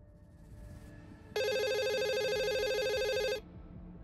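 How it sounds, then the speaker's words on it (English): A phone rings once in the video game The Surge 2, a steady electronic trill lasting about two seconds, loud and close over a low background hum. "Oh, we get a phone call."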